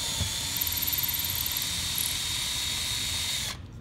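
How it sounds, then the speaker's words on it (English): A power drill whines steadily at high speed while boring through layers of plywood, loud and close, then stops abruptly near the end. "I'm just gonna take a drill hole right through both."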